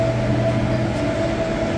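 A Rio de Janeiro metro train gives a steady, loud rumble with a constant low hum and faint high whine, heard from on board or close to the platform.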